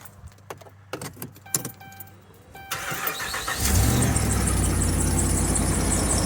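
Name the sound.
serpentine belt squeal on 2009 Dodge Ram 5.7 HEMI engine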